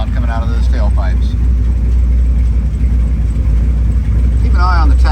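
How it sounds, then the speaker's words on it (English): A 1965 Corvette Convertible's engine rumbles steadily through its tailpipes in a low, constant drone while cruising, with a voice talking briefly over it at the start and end. "What an amazing sound coming out of those tailpipes."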